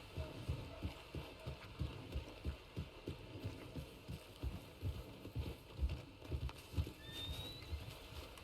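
Horse hooves clop at a steady walking pace in the Red Dead Redemption 2 western game, with soft thuds continuing under light ambient background sound.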